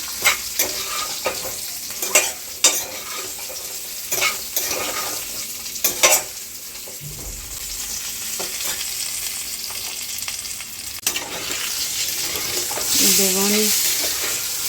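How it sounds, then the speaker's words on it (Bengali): Eggplant fries in a pan with a soft continuous sizzle, punctuated by sharp scraping stirs at intervals, and a brief voice near the end. "বেগুন ভাজা হয়ে গেছে।"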